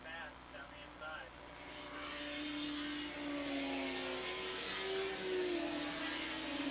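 A Kawasaki 750 modified production racing motorcycle at Willow Springs raceway makes a distant whine that rises in pitch as it accelerates, with a race commentator talking over it.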